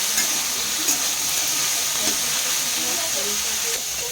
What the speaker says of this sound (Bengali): এবার ফুলকপিটা দেওয়া হচ্ছে। নেড়ে নেওয়া হচ্ছে ভালো করে।